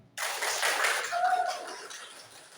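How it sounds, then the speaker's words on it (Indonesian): Classroom of first-grade children clapping together in a burst of dense, overlapping claps that starts abruptly, holds steady and tapers slightly toward the end, with faint voices mixed in. "Tepuk tangan lagi."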